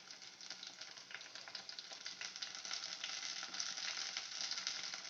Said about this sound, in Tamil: கொஞ்சம் கருவேப்பிலை தக்காளி நல்லா வதக்கிக்கோங்க